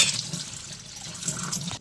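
Crabs being rinsed in clean water for a monsoon stuffed-crab curry, a steady splashing and trickling wash running close up for under two seconds with no talking.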